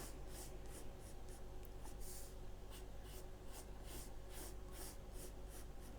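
A pencil drawing straight lines on paper makes soft, rhythmic scratching strokes, repeated evenly one after another, close and quiet with no talking.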